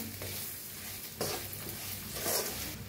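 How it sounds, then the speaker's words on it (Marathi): Okra and potatoes being stirred in a hot pan, a soft continuous sizzle with scraping stir strokes, close and steady, no voices. "आता ह्याच्यातच टाकूया भेंडी आणि बटाटो टाकूया ह्याच्यात. छान मिक्स करूया."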